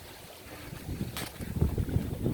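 Gusting wind on a reefed sailboat at sea in a storm, a low rumbling rush that builds and buffets the microphone, with no voices.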